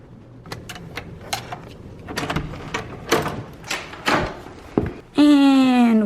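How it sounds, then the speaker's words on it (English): Door opening in a school building, with a series of sharp clicks, thunks and rattles from the latch and handle, ending in a loud electronic beep-like tone. "Door's opening."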